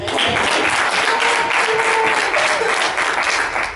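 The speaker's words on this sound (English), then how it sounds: "round of applause." A church audience applauds a comedian taking the stage, steady dense clapping throughout, fairly loud and even, with no talk over it.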